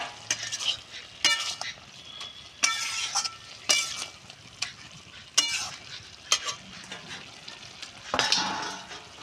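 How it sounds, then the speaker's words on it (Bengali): Cabbage being stir-fried in a pan, with repeated scraping and clinking strokes of a spatula at an uneven rhythm over a soft, steady sizzle, close and fairly quiet. "এবার বাঁধাকপিটা নেড়ে চেড়ে একটু কষে নেব।"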